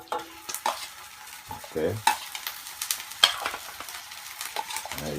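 Ginger sizzling in a very hot pan with garlic nearby, stirred in bursts with scraping and spiky crackles, close and fairly loud, with a brief word spoken.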